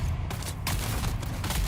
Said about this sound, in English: Damn, the guns are boomy in here.